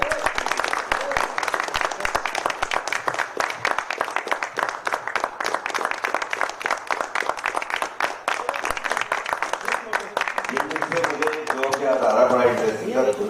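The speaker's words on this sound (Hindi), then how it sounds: "उनको हम बहुत जोरदार तालियां हो जाए।" An audience at a theatre festival claps loudly and steadily for a director in a long round of dense applause. A voice speaks over the clapping near the end.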